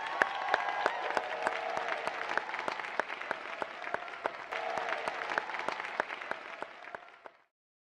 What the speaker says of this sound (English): Let's give them a round of applause to get things rolling here.